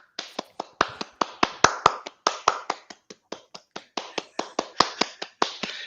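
One person claps while holding up a laptop, giving a long run of sharp, close, slightly uneven claps at a brisk, steady pace, each snap crisp and dry with short pauses between.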